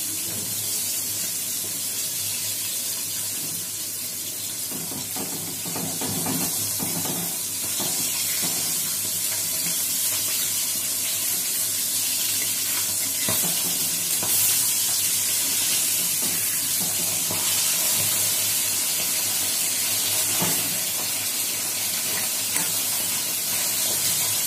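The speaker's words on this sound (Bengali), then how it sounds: "মাছের তেলটা এখন একটু কম ছিটছে সেই জন্য আবার শাকটাকে আমি একটু ঢেকে দিলাম।" Leafy greens frying under a lid in oil left from cooking fish, producing a steady, somewhat muffled hiss with scattered soft crackles, close and unbroken throughout.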